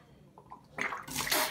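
Hot water gushing from a tap, rising from a faint trickle into a loud close splashing rush within about a second, no talk.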